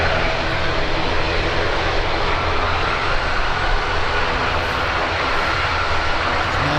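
A KLM airliner taxiing toward the runway at Birmingham Airport, its jet engines giving a loud, steady broadband roar that holds evenly throughout with no voices.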